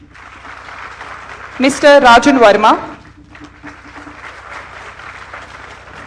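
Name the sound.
audience applause welcoming faculty members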